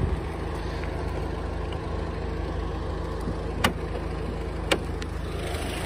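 A 2-litre Audi TT engine idles smoothly, with a steady, even low rumble close by and a couple of faint light clicks, and no voices.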